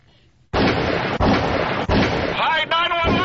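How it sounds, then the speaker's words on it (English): Loud, continuous bursts of explosions and rapid gunfire erupt suddenly and rumble heavily during a prank 911 call, with a brief gap near the end and a voice shouting over the din. "there's all kinds of... explosions and gunfire, the police are here!"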